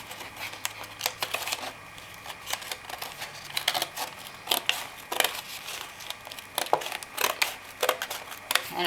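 Scissors cutting a circle out of stacked paper plates, a run of close, crisp snips and crinkling paper repeating in an uneven rhythm with no voices.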